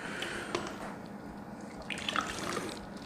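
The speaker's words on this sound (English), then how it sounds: "Get a splash of water in here." Water splashes and drips into a container during traditional mead making, a steady close trickle with a few brighter droplet plinks, heard alone without talk.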